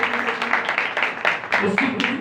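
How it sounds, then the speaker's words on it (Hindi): Applause from a church congregation during a praise service, dense clapping that runs steadily throughout with voices and singing mixed in under it. "जोरदार तालियां जिंदा खुदा के जलाल के लिए।"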